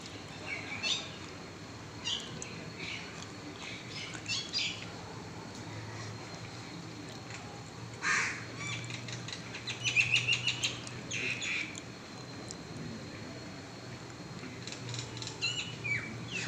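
Two common mynas call back and forth from a neem tree, trading short scattered chirps and squawks that stand out in bursts against a steady low outdoor background hum.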